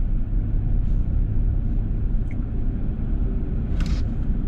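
A car rolls along and pulls into a parking spot, its engine and road noise a steady, loud low rumble from inside the cabin, with a brief faint click near the end.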